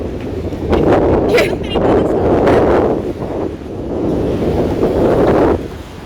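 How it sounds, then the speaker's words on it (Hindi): Strong wind buffets the microphone as sea storm waves surge against the Karachi shoreline, a loud continuous roar swelling and easing in gusts, with a voice talking intermittently over it. "ये देखे समुद्री तूफान कराची की साहिल पट्टी पर आया हुआ है"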